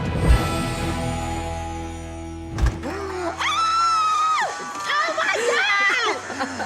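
High-pitched excited screams and shrieks from several people break out after a stretch of murmuring in a hair salon, with cheering mixed in.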